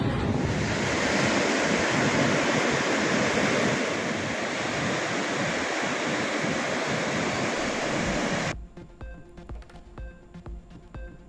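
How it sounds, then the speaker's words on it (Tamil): Loud, continuous roar of floodwater rushing in the Thamirabarani River after heavy rain, with broadband wind-like noise, steady for several seconds before cutting to quieter ambient sound with faint tones. "தாமிரபரணி ஆற்றில் கரை புரண்டு ஓடும் வெள்ளம்."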